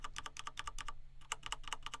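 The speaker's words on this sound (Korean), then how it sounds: "커세어사의 적축 키보드를 쓰고 있어요" Quick, even key presses on a Corsair mechanical keyboard with silent red switches tap away up close in two bursts separated by a brief pause.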